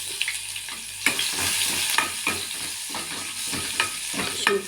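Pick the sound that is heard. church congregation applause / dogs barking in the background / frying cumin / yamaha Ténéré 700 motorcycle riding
frying cumin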